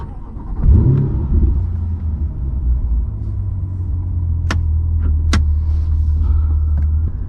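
A 2020 Chevrolet Corvette C8 3LT Z51 rumbles steadily from inside the cabin while riding, a deep, constant low drone with a swell as it pulls away and a couple of sharp clicks in between.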